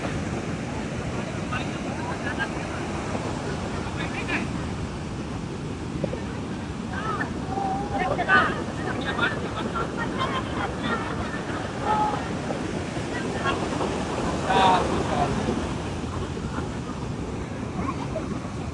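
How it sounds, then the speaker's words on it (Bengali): Big ocean waves roar continuously at Puri beach, a dense, even rumble of surf that stays loud throughout, with faint voices now and then. "পানি ঢেউয়ের গর্জনে।"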